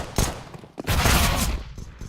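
MP9 submachine gun fire in a Counter-Strike match, loud rapid bursts, a short burst followed by a longer sustained spray.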